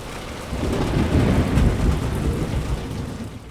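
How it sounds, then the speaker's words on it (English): Rain clattering off metal surfaces in the tactical shooter Project I.G.I., a dense hissing downpour with low rumbling underneath, swelling slightly and then holding steady, no voices. "Listen to that rain clattering off the metal."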